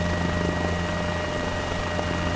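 A helicopter in flight produces a steady, loud droning rotor and engine hum that fills the whole cabin evenly and continuously, with no talk.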